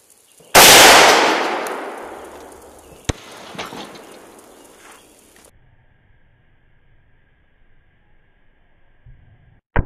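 A gunshot strikes a homemade armor plate of three welded layers of 10 gauge high carbon steel, one loud, close, sharp blast with a long decaying ring, followed by a couple of smaller knocks.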